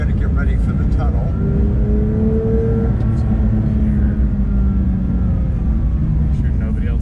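A Porsche 911 GT3 with a manual gearbox pulls through a tunnel, its engine a steady, loud low roar throughout, with a faint rising pitch suggesting acceleration under the rumble.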